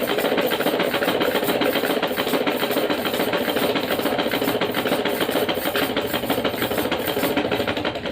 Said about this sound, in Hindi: अब हम इस लाइन पे सिलाई लगाते हैं।